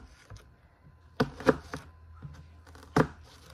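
A knife chops an onion on a cutting board, a few sharp, close knocks spaced irregularly with quiet gaps between them.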